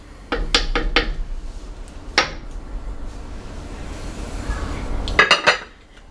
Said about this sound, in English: And then I just scoop out a bowl of the chili.